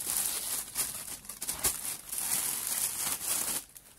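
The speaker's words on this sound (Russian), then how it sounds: "Развязываем пакет с морковкой." Plastic bag holding stored carrots being untied, giving steady close crinkling and rustling of thin plastic with small tearing-like crackles throughout, no voices.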